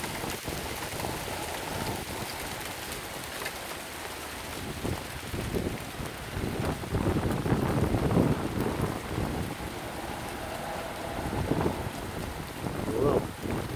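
A hail shower in Andover pelts down as a dense, continuous clatter on nearby surfaces that swells in the middle, with no talking over it.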